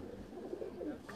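A pigeon, a prized racing bird received as a gift, gives a low, soft coo close by in a brief rolling phrase, with faint background murmur.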